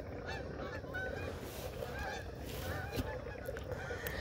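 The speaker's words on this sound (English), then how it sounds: "There's some geese. Hey, geese." Geese honk repeatedly in scattered calls from a distance outdoors near water during a fall crappie fishing trip, over steady wind and ambient noise.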